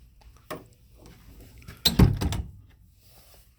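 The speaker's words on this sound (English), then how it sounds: "let me carefully go down these steps and open up the cellar door. Nice heavy wooden plank door." A heavy wooden plank cellar door at the bottom of some steps is opened, giving a soft knock, then a loud close thump with a brief creaking, scraping rattle before quiet.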